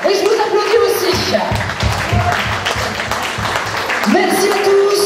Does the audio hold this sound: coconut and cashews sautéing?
no